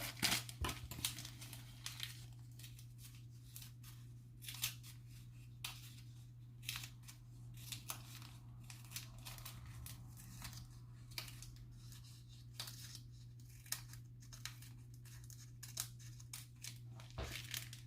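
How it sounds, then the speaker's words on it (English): Paper is crumpled and torn by hand while making homemade firestarters, soft irregular crinkles and rustles close by, quiet and intermittent over a steady low hum. "And now I'm just going to add a little bit more paper in here."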